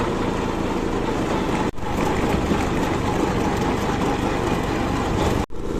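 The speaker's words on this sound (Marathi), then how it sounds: "रेस केल्यानंतर ट्रॅक्टर फास्ट जात आहे." Tractor engine revving hard while driving fast in third gear, a loud continuous rumbling drone close by, with two brief dropouts and no talking.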